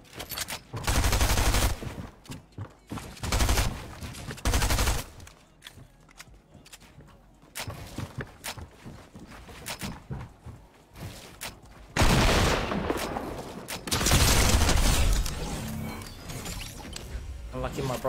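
Video game gunfire rattles in loud bursts of rapid shots separated by quieter pauses, close and punchy, with a voice speaking between the volleys.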